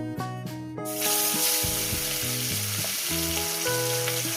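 Katla fish pieces frying in a pan, a strong steady sizzle that bursts up as a piece goes in and holds loud and continuous, with faint background music underneath.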